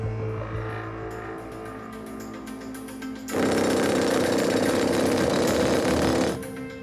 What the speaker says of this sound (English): You're going to drill an hole